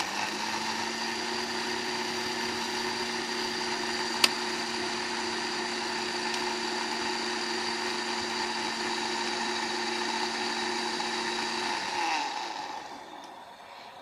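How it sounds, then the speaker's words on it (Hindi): An electric blender grinds a tamarind and plum sharbat mixture, its motor whirring at a steady pitch for about twelve seconds before it switches off and spins down into quiet. "अब हमने इसको ब्लेंड कर देना है।"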